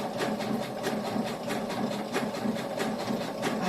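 A sewing machine chain stitches a fabric piece for a shoulder bag, running in a fast, even mechanical whir with rhythmic needle ticks, close and steady for the whole stretch with no speech.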